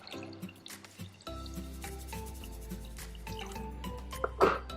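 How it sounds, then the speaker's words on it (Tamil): Water pours and trickles into a metal pot for boiling eggs, with a steady hum in the background, ending in a brief splash. "தண்ணி சேர்த்துக்கலாம்."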